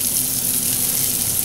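Chopped red onion sautéing in butter in a hot pan gives off a steady, even sizzle with a bright hiss, close and continuous, with no voices.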